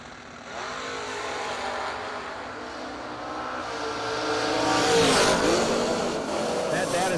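A drag race car accelerates down the strip, its engine roar building steadily in loudness and pitch over several seconds, while an announcer talks over it.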